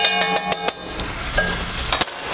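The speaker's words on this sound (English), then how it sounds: "we're just going to lightly cook that with the onions for a bit" Pressed garlic sizzling with onions in a soup pot for chicken noodle soup, a loud, close, steady frying crackle broken by a few quick clicks and scrapes.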